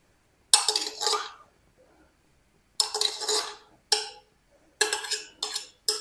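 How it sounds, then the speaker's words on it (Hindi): Desi ghee spooned into a pan on the stove, several separate bursts of clinking and scraping metal a few seconds apart, close and fairly loud with quiet gaps between. "5 से 6 चम्मच खाने के हम देसी घी शामिल कर देंगे इसमें"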